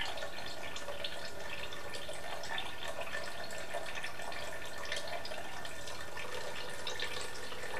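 Liquid dye bath being decanted from one container to another to leave sediment behind, a steady trickling, dripping pour running continuously and fairly close, with no voices.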